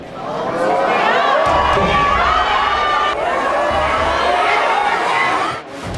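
A large crowd at a Korean Democratic Party political event cheers and chants for Lee Jae-myung, a loud, sustained roar of many voices with rising shouts and rhythmic chanting throughout.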